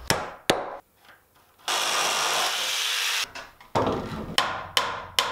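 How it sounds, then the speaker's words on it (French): Wooden planks being reworked: sharp hammer knocks while pulling out nails, then a few seconds of loud, steady sawing, followed by more separate close blows on the wood. "Enlever les clous, tracer, couper, poser, clouer."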